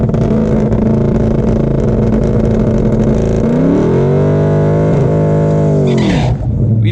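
A drag race car on a bracket racing run holds a loud, steady engine roar, then its pitch climbs through a gear change and drops away near the end of the run.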